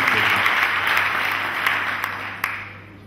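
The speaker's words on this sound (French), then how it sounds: "je vous demande de l'applaudir très fort" An audience at a year-end final event applauds steadily, a dense wash of many hands clapping at moderate loudness that gradually fades, with a few sharper individual claps near the end.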